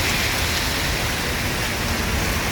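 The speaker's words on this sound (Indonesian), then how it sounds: "Hujan deras ya teman-teman." Heavy rain pours outside a bus ticket office in Palembang, a loud, dense, unbroken roar filling the whole clip with no voices.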